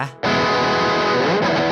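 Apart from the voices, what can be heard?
electric guitar with drive distortion on rear pickup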